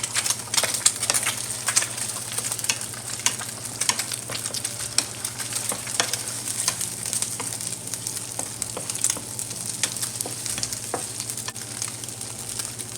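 Chopped kale with salt and black pepper sizzles steadily in a pan, with a low hum underneath and scattered scraping taps from stirring, close and moderately quiet with no voices.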